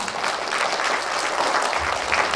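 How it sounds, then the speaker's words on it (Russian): Audience applauding at the opening of an annual televised children's culture festival and regional qualifying round, a steady, dense wash of clapping from a large crowd that holds evenly throughout without talk. "Аплодисменты!"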